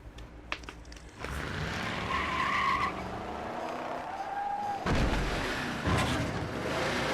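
A cartoon car skids in the Sam and Max game They Stole Max's Brain: a loud, sustained tire screech with wavering pitch runs for several seconds, followed by a couple of heavy thumps near the end.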